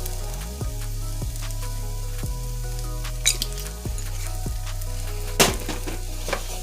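Spices (garlic powder and cumin) toasting in a hot pan for vegan chili, a close steady sizzle with stirring scrapes and a few brief clatters, no talk.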